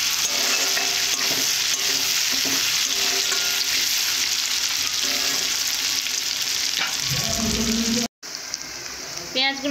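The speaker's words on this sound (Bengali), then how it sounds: "রসুন দিয়ে ভালো করে কষে নেব" Meat and garlic frying hard in a pan while being stirred, a loud continuous sizzle with scraping strokes throughout, cut by a brief silence near the end before the frying resumes.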